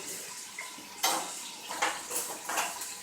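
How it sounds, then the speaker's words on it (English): A spoon scrapes and clinks against a pot while bacon sour cream spinach dip is stirred, several distinct bursts of scraping in an uneven rhythm, close and moderately loud. "Now I'll stir this up a little."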